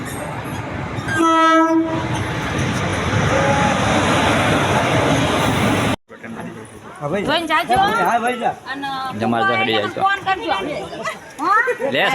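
A train horn blares over a loud rumbling approach of rail cars, then the sound cuts to several people chattering and talking nearby.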